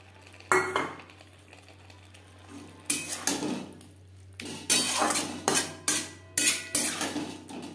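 Fried flat beans being stirred into spices in a pan: a series of metallic clanks and scrapes of a utensil against the pan, sparse at first then coming in rapid repeated strokes, with a low steady hum underneath.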